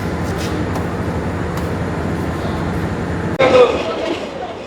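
The Simanta Express pulls out of Natore railway station with a steady low rumble of carriages, followed by a sudden louder burst of rattling and rushing noise near the end.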